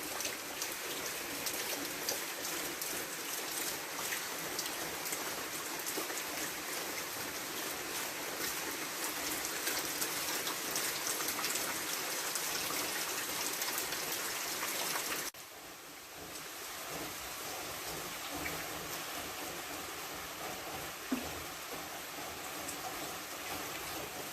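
Steady rain falls on a small village garden in Ukraine, a dense continuous hiss of drops that stays loud and even, easing slightly partway through, with no talking.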